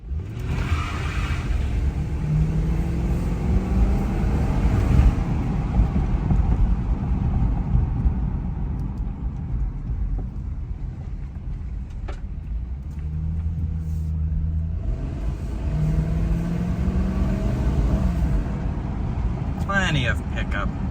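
A show-room condition 2007 Mercury Grand Marquis accelerates from inside the cabin: a low steady engine rumble with wind and road noise that rises in pitch through the gears, with a rising whine near the end.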